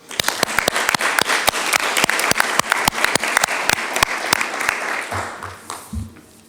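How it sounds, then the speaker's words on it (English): Applause from the audience at a Half Moon Bay city council meeting, a loud burst of many hands clapping sharply and steadily for about five seconds, then thinning to a few scattered claps as it fades. "I think we should give them a round of applause."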